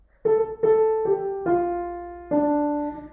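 A short, clear piano melody of five notes from a song, two of them sustained longer as tied eighths, played softly and alone in a quiet room.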